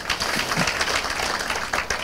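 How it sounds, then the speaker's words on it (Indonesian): Congregation clapping during an onsite church service, a short burst of dense applause with scattered sharper claps, fairly close and steady throughout. "Berikan tepuk tangan kita untuk Tuhan kita."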